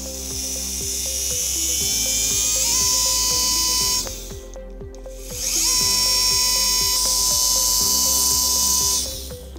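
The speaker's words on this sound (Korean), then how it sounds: "그래서 측벽에 구멍을 뚫게 되겠죠." Dental drill boring a small hole through the lateral sinus wall during a lateral approach, fitted with a 3 mm stopper: two sustained high-pitched whining bursts of a few seconds each, separated by a brief pause, close and loud with no talk.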